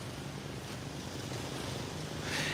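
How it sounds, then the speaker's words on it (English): Ocean waves roll in at Jomtien Beach in Pattaya, Thailand, a steady broadband wash mixed with wind noise on the microphone, continuous and fairly loud, swelling slightly near the end, with no voices. "you can hear the water coming in."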